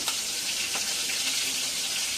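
Koi fish frying in hot oil, a steady, loud, close sizzle and hiss throughout with no talk.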